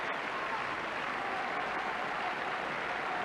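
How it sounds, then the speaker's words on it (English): A football crowd at a 1992 Motherwell v Hearts match gives steady, continuous applause, a dense wash of clapping and crowd noise throughout. "generous applause here for Preston"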